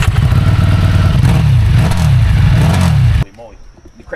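A 2004 Harley-Davidson Softail Deuce engine revving loudly and close, a rough throbbing roar rising and falling for about three seconds before cutting off abruptly into near silence.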